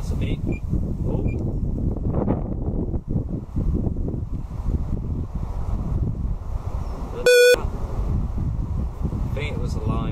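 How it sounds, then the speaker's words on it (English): A single short electronic beep from a carp fishing bite alarm rings out clearly over steady wind and rumbling outdoor background noise at a winter fishery. "Oh, that's a beep."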